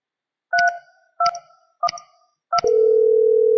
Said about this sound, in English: Dial Kevin's extension 3212.